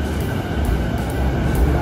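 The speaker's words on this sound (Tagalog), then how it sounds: "Haba ng tren na to." Train in Tokyo, Japan passing at a station, a steady loud rumble with rolling wheel noise and faint periodic hissing, continuous throughout with no voices.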